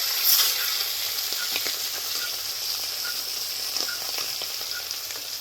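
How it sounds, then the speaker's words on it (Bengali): Small Japanese puti pond fish fry in a little oil in a kadai, giving a steady close sizzle and hiss with occasional pops and stirring sounds. "মাছের ঝাল চাপাবে, তার জন্য মাছগুলো ভেজে নিচ্ছে।"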